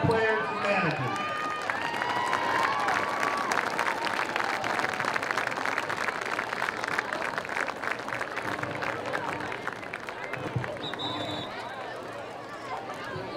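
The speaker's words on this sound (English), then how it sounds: "We have one more round of applause for our senior football players and managers." Crowd at a varsity high school football game applauding senior football players and managers, sustained dense clapping and cheering from a large outdoor gathering with voices and shouts mixed in throughout.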